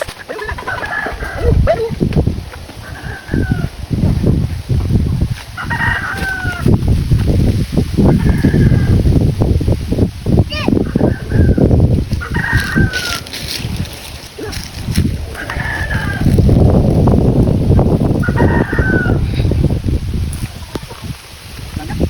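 Chickens cluck and call repeatedly at close range, their short bursts recurring every couple of seconds over a busy, noisy outdoor background.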